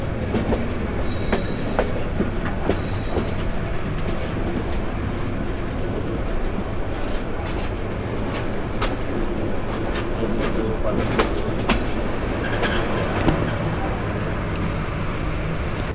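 The Turna Express night train rolls into Bhairab Bazar junction, a loud constant rumble of wheels on track with a steady run of sharp rail clicks and joints passing close by, and a brief high squeal.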